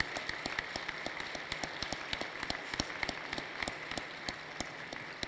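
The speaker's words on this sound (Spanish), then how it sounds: "tributémosle un aplauso" A crowd at the 99th annual assembly of the American Chamber of Mexico applauds steadily at a distance, a dense patter of many hands clapping without letup.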